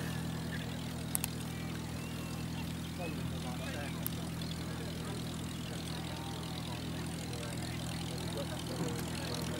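A Gloster Gladiator biplane at Old Warden airfield drones steadily with a low, even propeller-engine hum at a distance, while voices talk over it.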